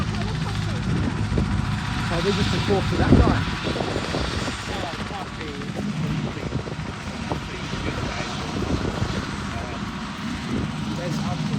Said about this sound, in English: not every day you have a helicopter land in your paddock